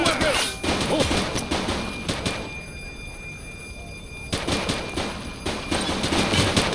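Loud bursts of gunfire in The Precinct police game, a cluster of sharp cracks at the start, a quieter lull, then another rapid volley of shots returning near the end.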